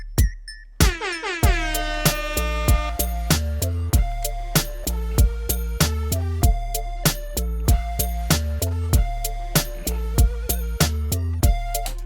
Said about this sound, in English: we've got the air horn going into the last chorus